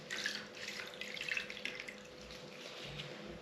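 Kerosene-soaked foam dirt bike air filter squeezed by hand, giving soft wet squishing and dripping liquid sounds, quiet and close, with no talk.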